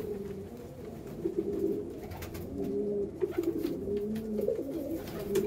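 A female Dowaj pigeon coos in low, repeated throaty bursts. The rolling call carries on steadily and fairly softly against a quiet background.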